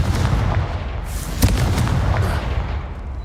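A Confringo fire spell in the video game Hogwarts Legacy bursts with a loud blast and sharp crack, followed by a heavy rumbling roar that decays slowly over several seconds, with no talk.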